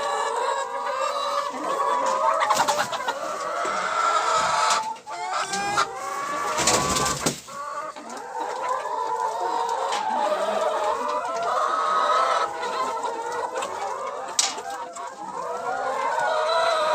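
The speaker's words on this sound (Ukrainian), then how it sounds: "Курочкам нашим практично 10 місяців." A flock of ten-month-old laying hens clucking and cackling continuously in a farm coop, busy and close, with a rooster-like call now and then and no clear talk.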